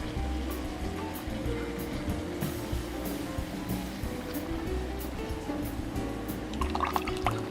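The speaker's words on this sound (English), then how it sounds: "I'm gonna add that cilantro and coconut milk to my soy sauce and vinegar" Coconut milk and cilantro pour into a bowl of soy sauce and vinegar for adobo sauce, a continuous liquid splashing and filling sound with faint clinks near the end.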